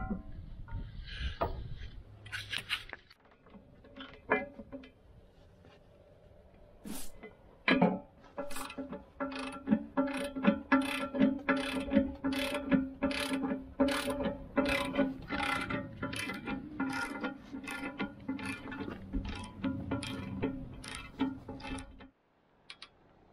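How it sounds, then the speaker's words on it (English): Ratchet wrench clicking steadily as a nut is torqued to 160 foot-pounds on a Woodland Mills WG24 PTO stump grinder, a long run of close, even ratchet clicks after some handling noise. "Then we're going to go back, put our pry bar in, and then torque this to 160 foot-pounds."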